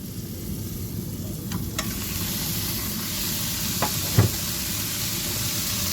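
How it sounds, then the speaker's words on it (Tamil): Spinach dal with masala and chana dal stirred in a pan: a steady close sizzle runs throughout, with a few brief clicks of the spoon against the pan near the end. No talking. "கிண்டணும்"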